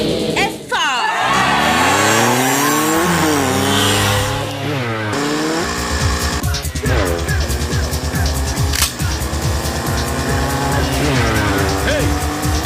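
A car brakes hard in a Telugu film scene, its tires squealing and skidding loudly over a rising and falling engine roar, with voices and other scene sounds mixed in.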